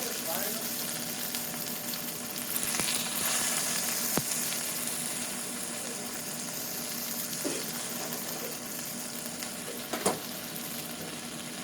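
Cajun chicken dumplings sizzle and fry in hot, lightly smoking oil in a pan, a steady close crackle with occasional sharper pops and a brief stir, and no voices over it.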